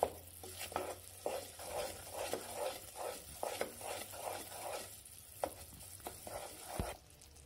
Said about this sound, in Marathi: गूळ चांगला आता उकळायला लागलेला आहे आपला आणि वितळायला पण लागलाय।